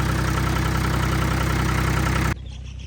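A tractor engine, a 265 model, running a generator, a loud steady idling chug that cuts off abruptly near the end, leaving a faint low hum.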